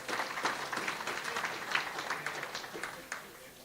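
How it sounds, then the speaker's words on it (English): Audience at an Eastern Cape school rationalisation programme gathering gives a round of applause, a moderate burst of scattered clapping that rises and then fades over a few seconds, with a voice faintly present underneath. "So can we give them another very big round of applause?"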